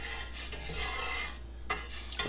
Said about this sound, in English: And now I'm just going to stir